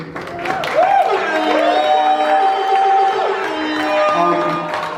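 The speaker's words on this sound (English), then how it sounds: "So give yourself a round of applause." Crowd at a press conference cheering, whooping and applauding after being asked to give themselves a round of applause, a steady loud wash of voices and claps with some shouted whoops rising over it throughout.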